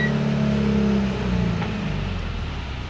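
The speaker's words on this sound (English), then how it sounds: "Forward, so we got the throttle up." A boat engine revs as the throttle is pushed forward, a loud steady mid-pitched drone that holds for about a second and then eases slightly while still running.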